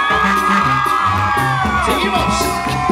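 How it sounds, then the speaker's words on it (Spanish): A dense crowd shouts, whoops and cheers loudly and continuously at a banda concert at a 25th-anniversary celebration in Tepetongo, with excited yells layered over the steady roar. "Nos ayudan con los gritos, muchachos"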